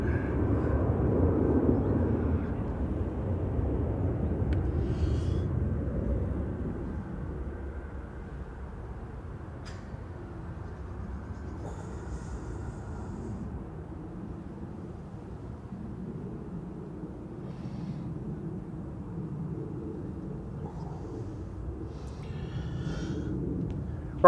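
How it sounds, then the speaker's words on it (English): A Ryanair airliner arriving from Cologne crosses the runway threshold on landing at Manchester Airport, its engine roar loudest at the start and easing to a steady, moderately distant rumble. "Ryanair 1592 from Cologne, just coming over the threshold now"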